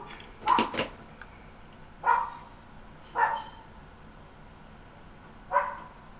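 A single dog barks sharply a handful of times, heard from some distance through an open window, with short irregular gaps and quiet background between barks.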